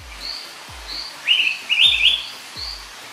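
An Araripe manakin, a red, white and black forest bird, gives two short bursts of bright chirping calls, clear and fairly close, over soft low thumps.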